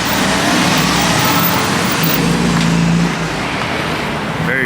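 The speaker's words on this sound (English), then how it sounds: "The homie Enrique with the wide body M2 pulling up with us." A wide-body BMW M2 pulls up at a car meet, its engine a loud, steady low rumble with road noise throughout, close by and easing slightly toward the end.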